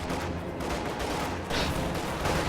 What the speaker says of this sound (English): that mortar, on the other hand, wipes full squad